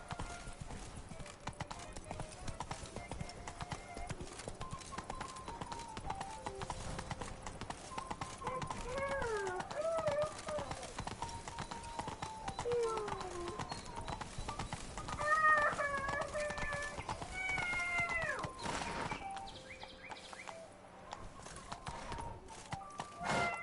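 Roach the horse gallops in The Witcher 3: Blood and Wine, with rapid, continuous clip-clop hoofbeats at moderate level, occasional brief whinny-like calls, and game ambience underneath.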